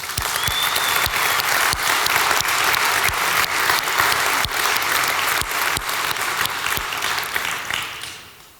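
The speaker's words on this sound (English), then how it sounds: "also a big round of applause for you." Conference audience at the Shopware Community Day 2019 technical keynote gives warm, steady applause with sharp individual claps standing out, holding for about eight seconds before tapering off.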